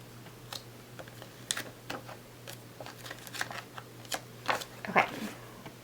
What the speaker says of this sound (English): You can kind of hear the thickness in the paper